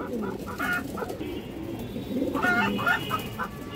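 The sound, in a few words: female pigeons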